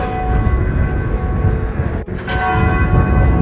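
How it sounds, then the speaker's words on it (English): A church bell ringing in Greenwich, a loud, sustained metallic tone with lingering overtones over steady outdoor bustle, briefly cut off partway before resuming. "And then you got the bell."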